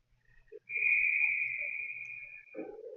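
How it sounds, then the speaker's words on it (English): Referee's whistle at an ice hockey game, one long sharp blast lasting about two seconds, fairly clear above faint arena noise. "And a whistle goes."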